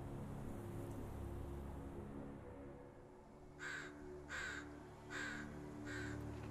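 Crow cawing in the video game Sherlock Holmes: The Awakened, set in the Swiss Alps, four short caws evenly spaced over a steady rushing ambient bed, moving across the stereo field.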